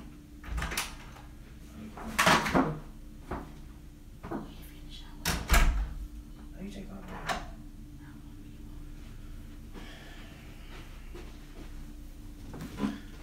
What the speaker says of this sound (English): Hold on, let me get this door.